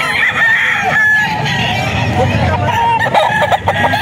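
Roosters crow and cluck loudly at a gamefowl breeder farm in Bocaue, with several birds calling over one another throughout.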